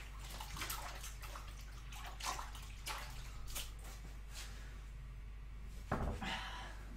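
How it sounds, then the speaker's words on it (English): Tap water running in a home kitchen while hands are washed, a steady splashing hiss with a few irregular louder splashes and a brief knock near the end, with no talk. "Let me just wash my hands."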